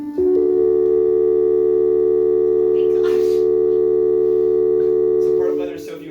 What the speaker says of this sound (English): So part of why there's so few overtones there is because this is a sine wave again.